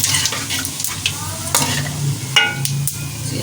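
Cumin seeds, added after a bay leaf, crackle in hot oil for a Baingan ka Bharta masala, a loud, close, steady sizzle broken by sharp spoon scrapes and taps against the pan.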